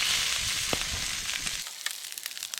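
Fish fritter balls dropped into a hot pan over an open fire give off a steady sizzling hiss, with a few sharp pops and crackles near the start and the spitting continuing close up with no talking.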